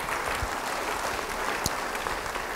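A church congregation applauds during a sermon, a steady even patter of many hands clapping throughout, moderately loud and without talk over it.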